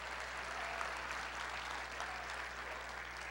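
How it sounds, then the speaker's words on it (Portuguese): A church congregation applauds in praise of God during a sermon, producing a dense, continuous wash of clapping that holds at an even level throughout over a low steady hum. "Pode dar salva de palmas ao Senhor"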